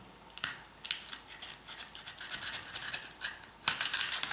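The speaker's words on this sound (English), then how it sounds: "I'm going to cut across here so we can fold it open." Scissors cut across dry, leathery mummified lizard skin close up, a series of crisp snips and rasping scrapes in uneven bursts, with a sharp cut near the end.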